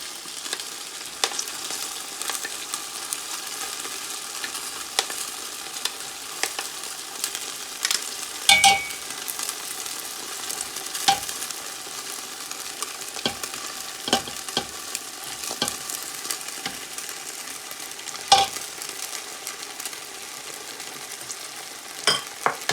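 Carrots and mixed vegetables for chicken noodles sizzle softly in a pan while being stirred, with faint scraping taps of the utensil scattered irregularly throughout, no voices.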